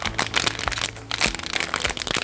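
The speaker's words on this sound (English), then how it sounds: "Oh, they're in the little plastic bag." A small plastic bag holding Shopkins toys crinkles and crackles close up, with several bursts of handling and a short pause in the middle.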